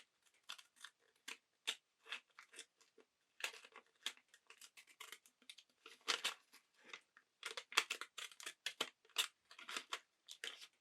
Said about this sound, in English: this is where I'm going to just use the decollage scissors